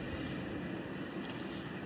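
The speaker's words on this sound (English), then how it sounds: "A lot of wind today." Strong wind blows outdoors in a continuous rushing roar that buffets the microphone with no pause.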